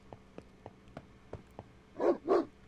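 A dog in the 8-bit noir game Rot Gut gives two loud, close barks near the end, after a run of faint regular ticking footsteps.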